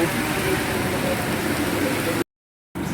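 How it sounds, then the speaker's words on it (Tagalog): Heavy rain pours steadily on a walk along Sumulong Highway toward Masinag in Antipolo, a dense close hiss that runs unbroken for two seconds before a brief dropout, then resumes. "napakalakas ng ulan"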